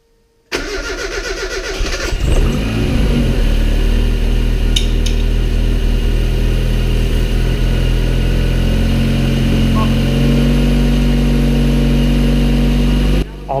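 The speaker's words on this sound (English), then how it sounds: "It feels so good to hear this engine revving for the very first time, even if it's just idling around." A turbocharged Mazda MX-5 engine from a high-rpm build cranks and fires up for its first run, then settles into a loud, steady, close idle that runs unbroken until the end.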